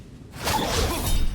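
A cast net attack in the video game Baldur's Gate 3, a single quick, airy whoosh that sweeps in after a brief hush and trails off.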